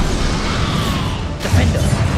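A Bombarda spell blasts in Hogwarts Legacy, a sudden crashing burst partway through that cuts into a continuous rumble of game noise and effects.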